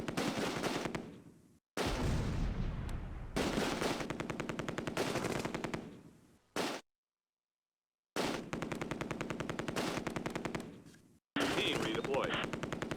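Long bursts of MG42 machine gun fire in the World War II strategy game Close Combat, set at Son Bridge during Operation Market Garden. Loud, rapid rattling volleys are separated by abrupt silences and short gaps, with no talking.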